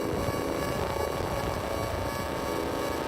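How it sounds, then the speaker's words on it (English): A dense, unchanging wash of static-like noise with a low hum, like a radio losing its signal, closing a Geometry Dash song. It is loud and continuous with no talk. "We bring back the concept of tuning in to the radio, and we lost signal."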